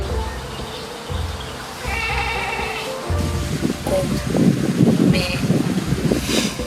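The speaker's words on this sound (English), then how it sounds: "limestone mountains with a free roaming mountain goats" Free-roaming mountain goats bleat several times against gusty wind noise among limestone mountains in Ninh Binh, Vietnam, the calls wavering and fairly close, with buzzing insects faintly in the background.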